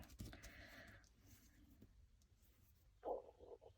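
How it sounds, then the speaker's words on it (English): Gurgling rumbles from the stomach of a person with Crohn's disease: faint low churning throughout, with a louder watery gurgle near the end, no talking. "Oh, that's my stomach rumbling."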